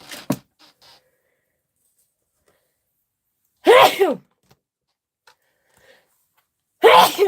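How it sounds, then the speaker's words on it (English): Two loud, sharp sneezes burst out several seconds apart, separated by near silence, with a faint breathy sound at the very start. "I'm going to sneeze."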